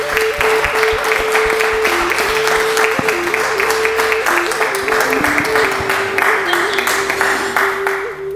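A crowd applauds a speaker at an evening event with steady, dense clapping that stays loud for the whole stretch, while a sustained musical tone hums beneath it.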